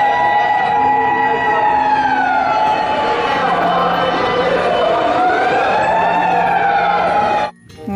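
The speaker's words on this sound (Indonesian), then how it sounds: "Pemadam kebakaran teman-teman." A toy fire truck sounds its siren, a loud electronic wail rising and falling in slow sweeps close to the microphone, cutting off abruptly near the end.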